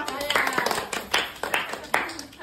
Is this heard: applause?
yes